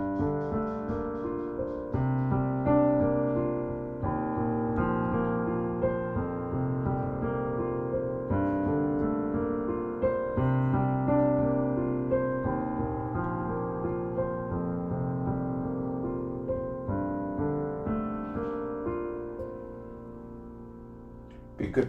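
Piano chord progression in rich jazz voicings, sustained chords changing steadily over about twenty seconds, played alone at moderate volume with a sharp accent at the very end.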